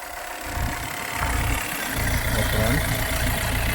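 The diesel engine of a 2013 Hyundai i20 Sportz idles nearby with a steady, low, slightly knocking rumble.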